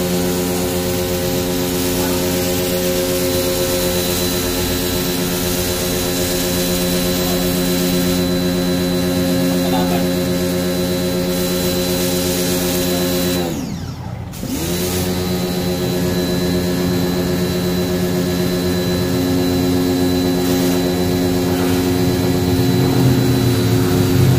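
A Lotus pressure washer running, a loud, steady motor drone with a strong harmonic whine that continues throughout, briefly dipping and cutting out for a moment midway before resuming just as strongly.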